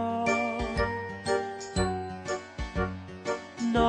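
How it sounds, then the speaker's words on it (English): Bright, repeated tinkling bell chimes from the Noddy theme ringing out in a quick melodic pattern over a low backing tone, close and fairly loud, with no voices. "His tinkling bell means he's the happiest little fellow in all"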